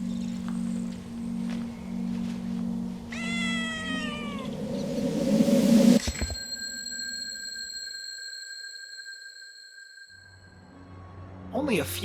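A cat meows several times in the time-travel puzzle game Time Loader, with drawn-out, wavering cries over low background hum, then a sudden cutoff into quiet tones and another short meow at the end.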